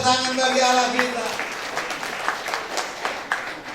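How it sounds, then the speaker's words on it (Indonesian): A church congregation at a Christmas service claps for God while a voice continues over them, the clapping scattered and uneven with sharp individual claps standing out. "Yang setuju tepuk tangan bagi Allah kita"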